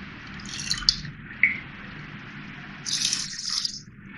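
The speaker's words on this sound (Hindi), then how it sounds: "यही वाले 6 कप पानी इसमें डालना है" Water poured into a pot holding one cup of sugar for rasgulla sugar syrup, a soft watery splash with a few drip-like plinks near the start and a second pouring burst toward the end, close by and alone.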